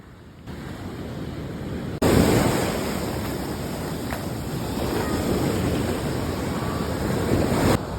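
Ocean surf on the beach at Playa Costeño, Colombia, a continuous broad wash of breaking waves with wind rushing across the microphone, steady and fairly loud throughout with no talking.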